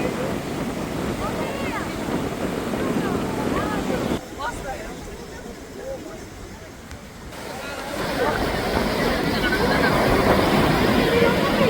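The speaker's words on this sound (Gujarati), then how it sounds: "પવન કેવો આવે" Strong wind buffeting the microphone on a beach in Goa, a loud continuous rushing roar with a quieter lull midway, sea surf likely mixed underneath.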